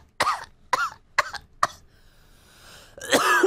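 A fit of coughing: four sharp, separate coughs in quick succession, then a brief quiet rasp and a final harsher burst of coughing, close and loud with no talking.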